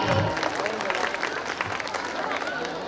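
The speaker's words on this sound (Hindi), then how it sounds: "एक बार जोरदार तालियां इन कवियों के लिए।" Audience applause for poets at a school annual function's kavi sammelan, a crowd clapping steadily and fairly loudly with murmured voices and babble mixed in.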